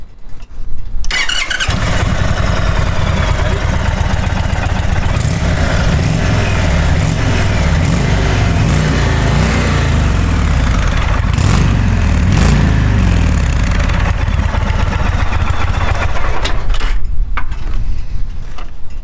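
An Indian Vintage Dark Horse motorcycle engine cranks and starts, then settles into a loud, steady, deep V-twin idle close by that runs throughout with slight revving, with no talk.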